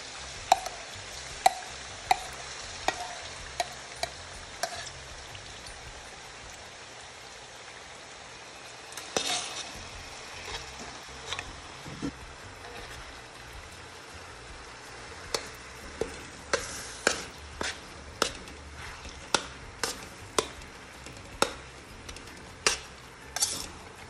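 Garlic and onion frying for Indonesian sambal chili paste, with cutlery clicks and stirring ticks against a low steady sizzle across most of the stretch.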